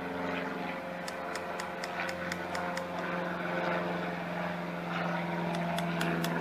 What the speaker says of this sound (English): Bloody aircraft.